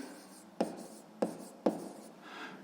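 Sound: pen writing on paper

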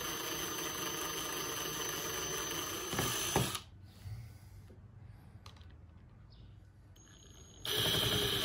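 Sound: drill boring holes in plexi arcade bezel

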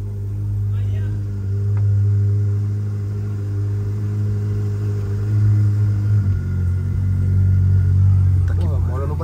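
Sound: Ferrari engine running and revving

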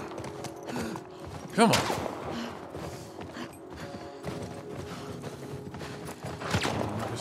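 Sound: horse hooves galloping in The Last of Us Part 1 video game

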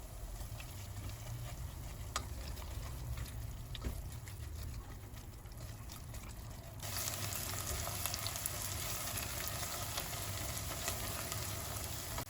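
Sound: tomato-pepper paste frying with onions in a pan

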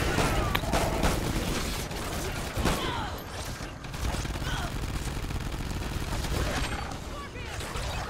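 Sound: sentry guns firing in video game Extinction Point of Contact

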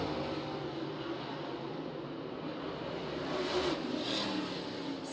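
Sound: SAS late model race cars racing at Cherokee Speedway

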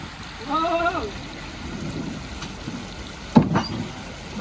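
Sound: mountain stream water flowing

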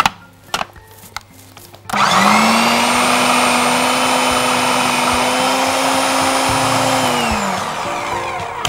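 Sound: blender mixing homemade sausage ingredients

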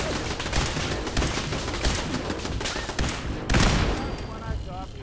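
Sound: gunfire in video game Fallout 4

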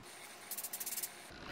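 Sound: hairspray being sprayed on hair

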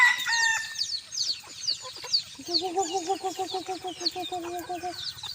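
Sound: bantam chickens clucking and crowing

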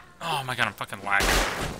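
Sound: gunfire in a video game

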